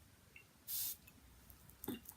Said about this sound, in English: I think I will have to spray this one because it's quite light.